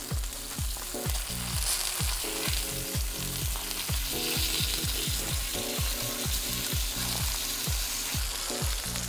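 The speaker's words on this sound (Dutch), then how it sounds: "Zo, die zijn mooi krokant gebakken." Pork belly fries crisp in a pan, a continuous hiss of sizzling fat punctuated by rhythmic scraping and stirring knocks, close and steady throughout with no voices.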